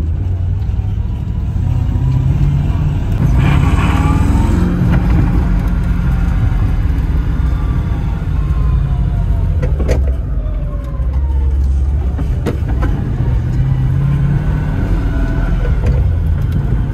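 A Mercedes M113 5-litre V8 swapped into a BMW E36 rumbles and warms up close by, with a deep steady engine tone, a few revs and gear changes, and short bursts of talk over it.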